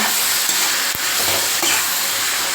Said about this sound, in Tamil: இப்போ முருங்கைக்காய் போட்டுக்கலாங்க நான் ரெண்டு முருங்கைக்காய் எடுத்திருக்கேன் காலு கிலோ கத்திரிக்காய் எடுத்திருக்கேன் அதையும் இதில் போட்டுக்கோங்க போட்டு ரெண்டு நிமிஷம் நல்லா வதங்கிட்டோங்க